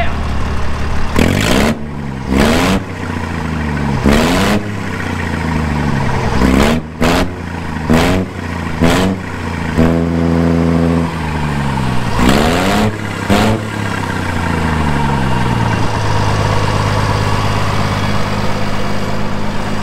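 Loud, raw tractor engine with its exhaust removed revving repeatedly in sharp bursts, open and unmuffled, with rising and falling pitch sweeps between throttle blips, then settling to a rough idle.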